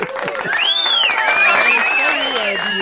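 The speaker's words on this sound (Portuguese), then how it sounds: "Vamos aplaudir a nossa claque" Canned electronic applause from a studio sound effect on a Brazilian TV morning show, a steady wash of clapping with a rising, warbling electronic tone sweeping over it, loud and close.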